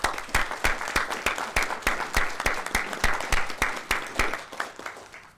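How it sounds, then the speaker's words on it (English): Applause from an audience at a school district board of trustees meeting, a steady, fairly close patter of many hands clapping for about five seconds, thinning toward the end. "Please join me in a round of applause for these valued members of the Bartlett Innovation Team."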